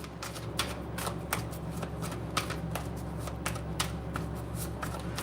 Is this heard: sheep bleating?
no